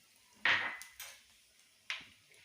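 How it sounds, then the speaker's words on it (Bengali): A utensil stirs whole spices (nigella, bay leaves, dried red chillies and whole garam masala) in hot oil in a pan for Bengali rui fish kalia. It strikes the pan in three sharp clanks against a quiet background. "ভালোভাবে নাড়াচাড়া করে নেব।"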